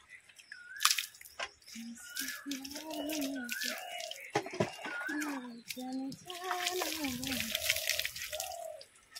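Water splashing and dripping while Shyamoli the cow is bathed, close irregular splashes and trickles with a voice speaking over much of it.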